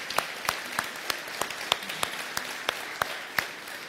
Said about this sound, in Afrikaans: Kom ons gee vir hulle 'n groot lekker hande klap.